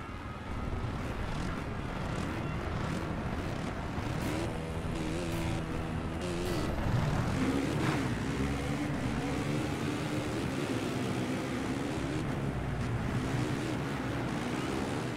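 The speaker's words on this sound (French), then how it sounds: "je vous ai laissé un petit peu le départ pour que vous entendiez le vrombissement des moteurs" Motocross bike engines in the MXGP PS4 racing game roar together at the race start, a dense, sustained buzzing drone that swells slightly midway and holds steady.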